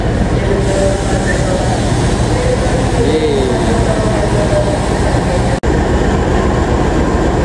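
Train 20644 from Purwokerto, bound for Cilacap, pulls in with a steady, loud rumble and rolling rail noise, a brief squeal of wheels and a short dropout near the end, with people talking faintly underneath.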